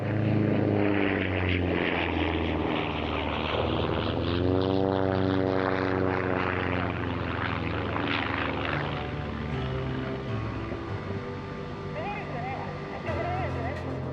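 A Sukhoi Su-26, Su-29 or Su-31 aerobatic propeller plane flies at an airshow. Its engine drones loudly and continuously, the pitch sliding audibly as it passes, while a voice speaks over it throughout.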